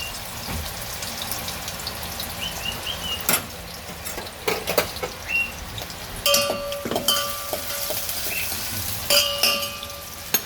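Onions frying in hot oil for a home-style dodka (ridge gourd) bhaji, a steady close crackling sizzle with occasional clinks of a spoon against the pan, no talking.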